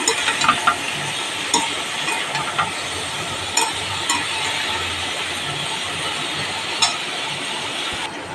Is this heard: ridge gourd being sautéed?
yes